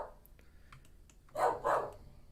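A pet dog indoors gives two short, muffled barks in quick succession, moderately near, amid faint clicking and room noise.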